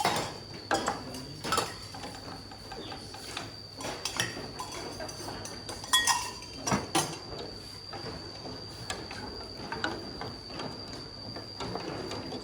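Coconut milk being stirred into a Thai curry in a metal pot during a cooking class, with irregular scraping clinks of the utensil against the pot over a steady kitchen hum and a constant high electrical whine.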